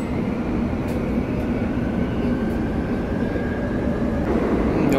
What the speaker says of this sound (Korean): 이 지하철 같은 시끄러운 곳에서